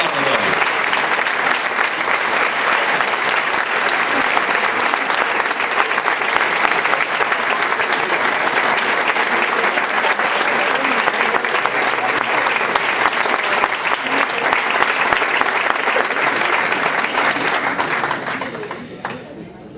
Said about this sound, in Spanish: Vamos a recibir inmediatamente a Jessica con un aplauso más largo todavía